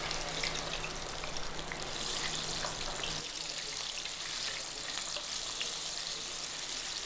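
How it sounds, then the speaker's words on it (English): A battered apple fries in hot oil with a steady, crackling sizzle that continues throughout, bright and hissy, with no talking. "then we're ready to move over to our hot oil and fry this delicious apple"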